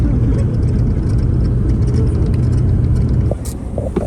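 Inside a cramped shuttle bus with reclining seats, heading to Busch Gardens, the engine drones loudly and steadily with road rumble, easing slightly near the end amid faint rattles.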